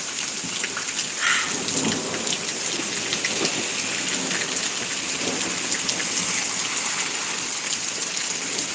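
Thunderstorm in Pittsburg, Kansas: steady heavy rain drums on surfaces and drips nearby throughout, with low rumbles of thunder rolling underneath; no talking.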